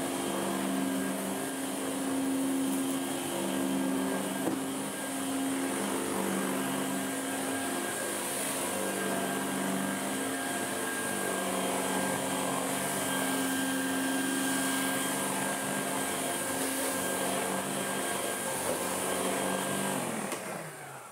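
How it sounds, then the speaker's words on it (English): An upright vacuum cleaner runs continuously for about twenty seconds. It makes a loud, steady whining hum with a constant motor tone, close by and with no talking. "this is an upright-only vacuum cleaner"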